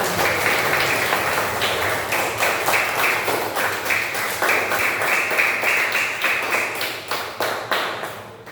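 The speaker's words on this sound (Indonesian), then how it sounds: "kita semua tepuk tangan sebagai apresiasi" A school class claps hands together in appreciation, a fairly loud, close burst of many hands with distinct rhythmic slaps running steadily for several seconds before tapering slightly.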